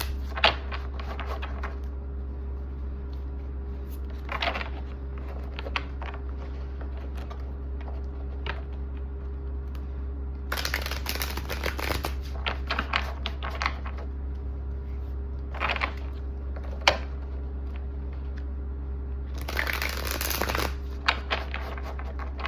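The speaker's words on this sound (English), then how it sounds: "Granted, I do have to shuffle." A deck of tarot cards being shuffled in several bursts of riffling and sliding, with quieter stretches between them, close up and otherwise alone over a steady low hum.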